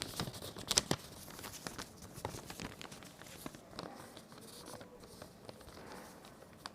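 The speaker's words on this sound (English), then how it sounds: "Bring this portion, fold it." A sheet of paper being folded into a square, with soft crinkling, creasing and brief tearing-like rustles in irregular bursts, close and fairly faint.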